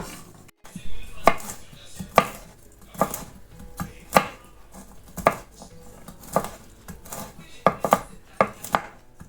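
Walnuts chopped with a knife on a cutting board for a banana cake, a run of sharp irregular thuds, about a dozen knocks spaced unevenly, close and alone.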